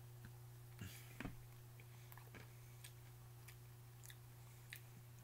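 Faint, close crunching of a handful of peanuts from Snak Club Energize trail mix, with a few short irregular bites and chews over a quiet background hum and no talking.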